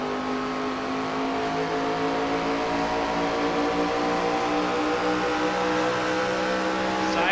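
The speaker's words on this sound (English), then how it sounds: "You hear him working the throttle, shifting, all of it." A race car at Gateway roars close by with a sustained engine note that climbs and drops as the throttle is worked and gears shift, loud and continuous for the whole stretch, with no speech.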